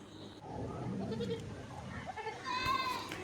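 Cross-breed goat kid, bottle-raised and for sale at a farm in Manjeri, bleating in a couple of short calls, with a louder wavering cry near the end over low background noise.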